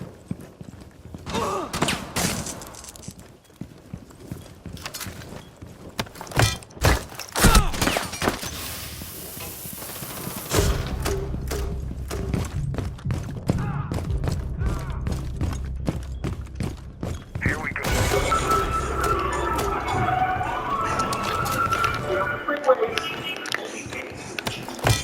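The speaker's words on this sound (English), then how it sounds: "The grenades that launch through will often bounce once or twice before detonating" Fuze cluster charge grenades in Rainbow Six Siege go off as a string of sharp thuds and clatters. A steady rumbling, crackling barrage follows. It carries on to the end with bright debris clinking over it.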